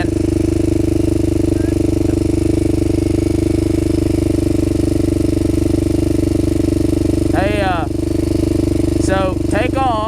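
Honda 400EX ATV engine running steadily and loud throughout, a constant close drone with a brief chirping sound near the end.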